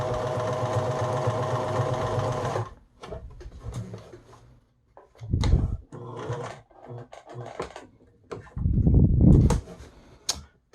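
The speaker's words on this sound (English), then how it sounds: "then we're going to reverse for our back stitch and go forward again. And this machine is extremely quiet." A Bernina 811 sewing machine stitching forward, then reversing for a back stitch and going forward again. A steady quiet mechanical whir is followed by short separate bursts of running, close by and without talk.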